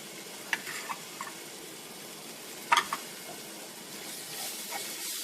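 Chili paste sizzles softly in hot coconut oil for a king fish mango curry, with a steady faint hiss broken by a few sharp scrapes and taps as it is stirred.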